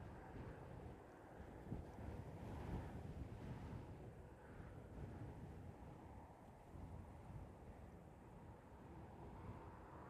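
Strong gusting wind roaring across the microphone at an airport radar station in Christchurch, a dense, continuous rumbling blast that swells and eases slightly but never lets up.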